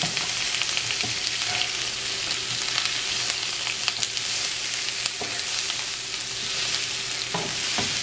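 Asparagus and portobello mushrooms sauté in garlic herb butter over a low flame, giving a steady, close sizzle with occasional stirring scrapes and clicks throughout.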